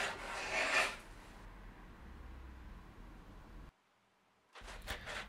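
A hand plane shaves a wooden guitar control cavity cover in close, rasping strokes, a bright scrape at the start followed by steadier rubbing, a short pause, then another quick pass.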